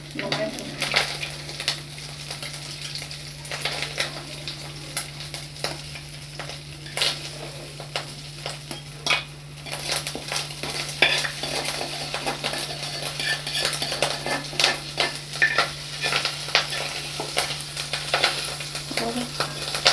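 Fish egg pakoras fry in a pan with a steady close sizzle, broken by repeated scrapes and clinks of a utensil stirring and turning them, and a voice now and then.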